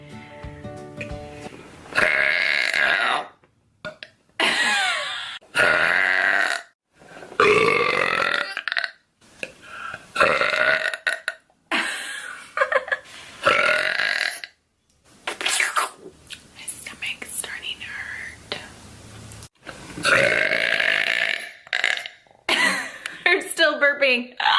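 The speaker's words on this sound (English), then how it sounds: "I'm still burping." A woman burps repeatedly in a series of loud, close, drawn-out belches separated by short pauses, some croaky and some breathy, with occasional throat clearing and a few soft words between them.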